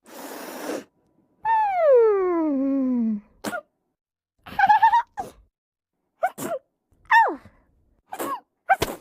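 A cartoon character sneezes in a drawn-out comic fashion, a breathy burst followed by a long wavering wind-up cry and several sharp sneezing bursts in quick succession, loud and close.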